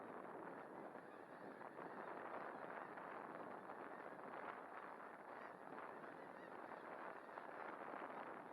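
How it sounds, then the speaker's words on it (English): A huge flock of snow geese at Bosque del Apache National Wildlife Refuge keeps up a dense, continuous wall of overlapping honks at a distance, with faint wind noise underneath. "There are so many snow geese that"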